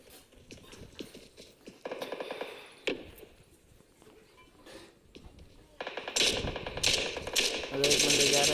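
Gunfire from a shooter video game, with sharp rapid bursts of shots loud in the mix, one cluster in the middle and a longer, denser stretch at the end, between quieter passages of game sound.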